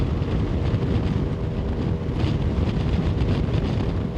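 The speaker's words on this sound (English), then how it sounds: "wow, that wind is strong. Sorry if that's destroying the audio" Strong wind buffets the microphone in a loud, steady low roar with gusty fluctuations throughout, heard outdoors with no other clear sounds.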